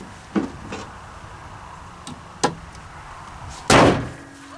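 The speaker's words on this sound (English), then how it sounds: "So when I slam the door" A car door slams shut once, a loud close thud near the end, after a few lighter knocks and taps on the car; no talking.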